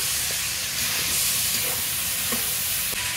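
Boiled peas go into spiced masala frying in oil for ghugni, giving a steady close sizzle with faint stirring scrapes throughout, no voices.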